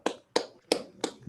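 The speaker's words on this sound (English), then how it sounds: "You can unmute your mics and clap, or you can use the virtual clapping feature of Zoom to do that." Four sharp, evenly spaced claps ring out close and clear, a lone person applauding through a microphone at the end of an online Zoom talk, with quiet gaps between them.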